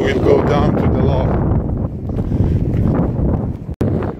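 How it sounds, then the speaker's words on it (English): Strong wind gusts buffet a hiker on a Scottish Munro summit, a loud continuous roar close to the microphone with a brief dropout near the end. "It is very windy"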